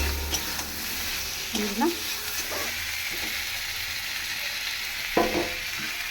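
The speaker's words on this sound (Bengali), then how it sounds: "এইবার দেখো পটল দিয়ে সব দিয়ে দিলাম, চিংড়ি মাছ আর পটল" Prawns and pointed gourd hit a pan of cooked spice paste, giving a steady sizzle and fry under stirring scrapes, with a brief voice speaking over it.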